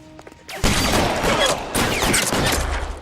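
Rapid bursts of gunfire crackle through a video game shooter match, with repeated close shots running in dense volleys across the whole stretch.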